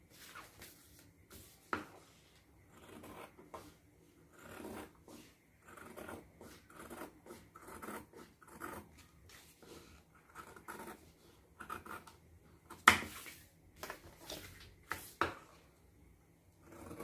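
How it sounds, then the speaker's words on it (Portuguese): Scissors cut plush fabric pieces for the zipper path of a bunny-shaped plush backpack: a series of quiet, close snips and rustles in irregular bursts, with no speech. "Agora eu vou cortar os espelhos do caminho do zíper das laterais."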